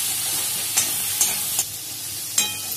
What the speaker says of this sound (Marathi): आपण एक सारखे हलवत राहूया दोन ते तीन मिनिटं तेल सुकेपर्यंत